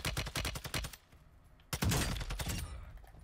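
Bursts of automatic gunfire in the Warzone 2 combat game, with rapid rifle volleys in two clusters separated by a brief lull, loud and fairly close.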